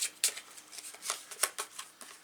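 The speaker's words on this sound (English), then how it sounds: "And go ahead and give that a good shuffle." A deck of Final Girl game cards is shuffled up close, a quick run of crisp papery riffles and flutters repeating in bursts with no voice over it.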